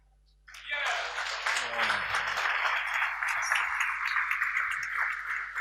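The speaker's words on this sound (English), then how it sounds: "Does he deserve a clap?" An audience breaks into applause at a morning plenary session of a devotional conference, a sudden wash of clapping that starts after a brief quiet and keeps up steadily, with a low voice under it at one point.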